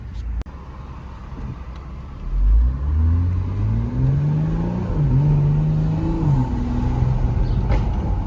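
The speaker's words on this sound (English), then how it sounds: "testing out the exhaust" A BMW X3 M40i with a loud aftermarket valved exhaust, valve open, revs up, holds a deep droning rumble, then rises and settles again, with steady background noise throughout.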